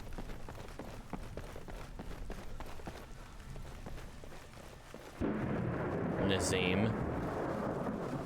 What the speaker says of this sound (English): Sorry, the thunder's a bit loud.